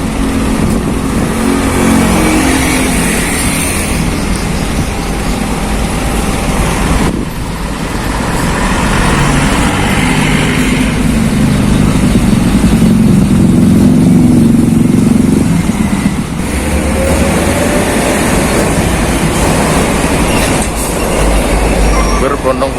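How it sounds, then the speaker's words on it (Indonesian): Heavy Volvo and MAN trucks roll past on a bypass road in Krian, Sidoarjo, East Java, a loud, continuous close-up roar of engines and tyres that swells and eases as vehicles go by. "truk ekspedisi melintas di bypass Krian Sidoarjo"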